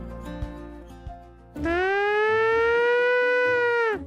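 A loud, steady siren wail with strong harmonic tones rises in abruptly, holds for a few seconds, then cuts off, played as a joke in a restaurant kitchen when food goes out; faint clatter and knocks come before it.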